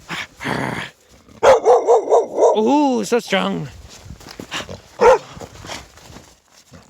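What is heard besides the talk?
dog barking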